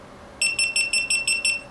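Seven quick high-pitched electronic beeps from a GoPro Hero2 camera switching off, in an even rhythm, clear and close, with no talking.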